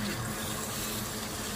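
Water poured into a paneer curry in a home kitchen, a steady close liquid rush lasting the whole moment with no talk over it.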